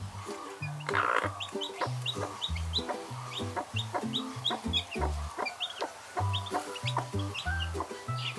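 A mother hen gives rhythmic low clucks alongside high peeping from her chicks, a continuous close-up farmyard chatter with no talking.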